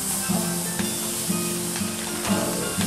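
Rack of lamb searing on a hot barbecue grill, a steady loud sizzle and hiss with faint pops and crackles throughout.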